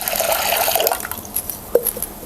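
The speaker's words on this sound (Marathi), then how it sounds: "आता आपण ह्यामध्ये पाणी घालूया" Water poured from a vessel into a pot of washed dal, a steady splashing fill that runs for about a second before tapering into a few scattered drips and small splashes, heard close and alone.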